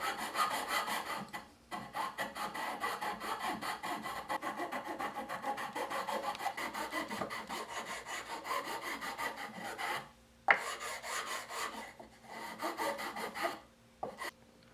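A hand file block rasps and shapes wood in rapid, steady back-and-forth strokes. The coarse scraping is close and continuous, with a few brief pauses between runs and no voices.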